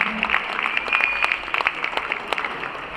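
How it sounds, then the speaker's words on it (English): Applause for a judges panel at a professional world finals dance competition, a short burst of clapping with individual claps audible and a high whistle over the crowd. "Let's give them a big hand of applause."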